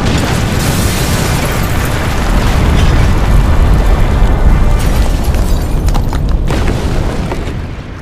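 Massive TNT nuke detonation in a Minecraft-like block game, a loud sustained roar of overlapping booms and rumbling blasts that fills the whole stretch, then thins slightly toward the end, no speech.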